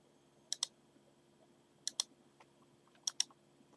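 Computer mouse clicks while setting lighting colours in software: three quick double clicks, sharp and close, spaced about a second and a half apart against a quiet background.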